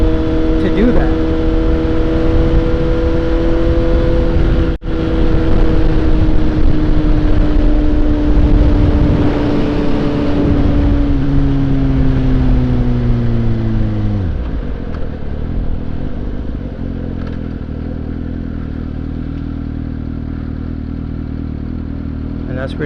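A Suzuki GSX-S750 motorcycle engine hums steadily while riding in third gear near 60 mph, with wind noise throughout. The tone stays loud and close, then eases slightly as the bike settles, while the rider talks over it.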